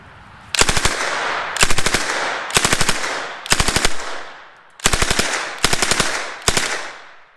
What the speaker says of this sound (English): I'm going to have some fun ripping a machine gun. It's an open bolt